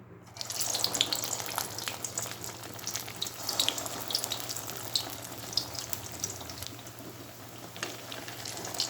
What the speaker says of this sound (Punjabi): ਇਹਨਾਂ ਪਕੌੜਿਆਂ ਦੀ ਆਵਾਜ਼ ਆਊਗੀ ਜ਼ਿਆਦਾ